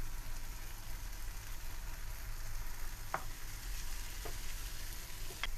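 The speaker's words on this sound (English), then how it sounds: "We're just going to mix and saute it until the tomatoes open up." Tomatoes and spices with salt and pepper sauté in a pan for aloo gobi, the Indian potato and cauliflower dish, making a loud, continuous, close sizzle broken by a few sharp clicks of stirring.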